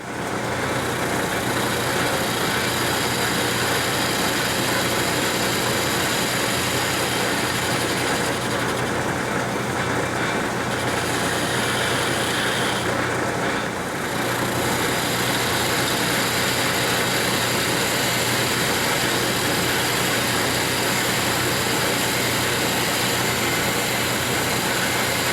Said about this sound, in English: let's start boring the hole